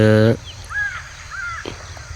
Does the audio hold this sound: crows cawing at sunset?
yes